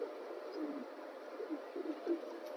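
Domestic pigeons cooing softly in a village loft in Muzaffarnagar, India, a low repeated murmur of coos over steady background hiss, fairly faint and close.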